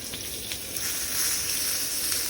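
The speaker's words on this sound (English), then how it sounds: "Now, I say searing, but this is technically considered to be pan searing" Backstrap or tenderloin meat pan-searing, a steady hissing sizzle with faint crackles and pops under a range-hood vent hum, no talking.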